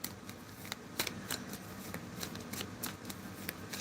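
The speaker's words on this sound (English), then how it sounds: "Shelly, I'm shuffling." Playing cards shuffled by hand for a two-card spirit message reading, a busy riffling patter of sharp papery snaps repeating steadily and close up throughout, with no talking.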